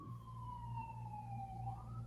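A wailing emergency vehicle siren sweeps slowly down in pitch and then rises again, heard outside on a busy street over a low steady traffic rumble.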